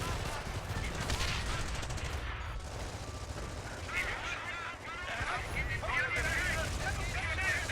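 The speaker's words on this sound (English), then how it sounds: "Rangers Throwing a grenade." Grenade explosions and gunfire crackle through a World War II-style video game battle as Rangers throw grenades, dense bursts of shots and blasts filling the mix at close range with game voices shouting over the fighting.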